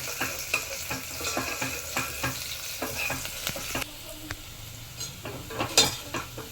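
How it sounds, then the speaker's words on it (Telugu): Onions and curry leaves frying in oil in a pan for a moong dal and toor dal pulao, a constant sizzle broken by repeated close spoon scrapes and taps as they are stirred. "ఆనియన్స్ కొంచెం గోల్డెన్ బ్రౌన్లో ఫ్రై అవ్వాలి."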